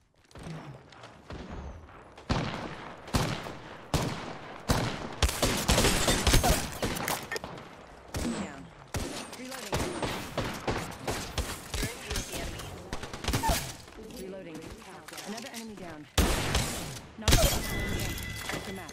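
Mozambique shotgun blasts in Apex Legends, repeated bursts of gunfire with thumps and impact crashes across the whole stretch, loud and close, mixed with game voice callouts and talk.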